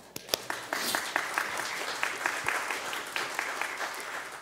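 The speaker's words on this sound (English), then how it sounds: "You don't have to be afraid to clap. We clap here." Congregation clapping in church at a Christmas Eve service, sustained fairly distant applause with individual claps standing out in a loose rhythm, no clear talk over it.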